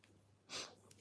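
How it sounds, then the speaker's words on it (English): A person sniffs once, a short, sharp nasal inhale close to the mic in an otherwise quiet room. "I'm sniffing again."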